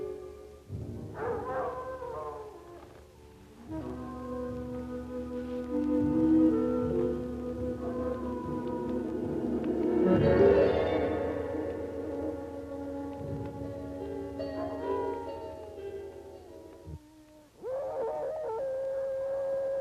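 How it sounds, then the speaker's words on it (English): Wolves howling in a horror film scene, long drawn-out rising and falling cries overlapping one another, sustained with a distant, eerie quality and no talk over them. "You hear the wolves?"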